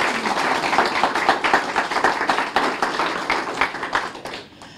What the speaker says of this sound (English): Let's give one more round of applause for all of the participants in this challenge again